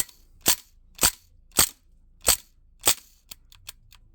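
Five sharp, loud pops from a Crosman R1 4.5mm CO2 BB pistol fire at an even pace about half a second apart, followed by several fainter mechanical clicks as the slide locks back, with no talking.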